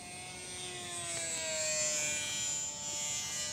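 An FMS Super Cub RC airplane at full throttle gives a steady, thin electric buzz at a distance, with its pitch drifting slightly as it passes downwind.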